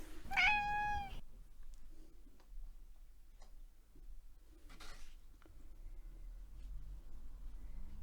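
A house cat gives one clear, close meow, followed by a quiet room with faint scattered ticks and taps.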